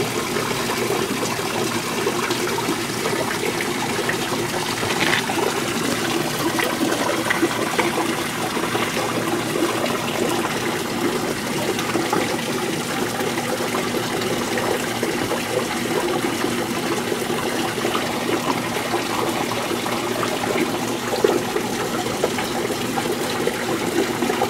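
A creek runs steadily where a smaller tributary feeds into a stronger stream, a continuous broad rushing and trickling wash with no voices.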